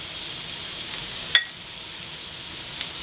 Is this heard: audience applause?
no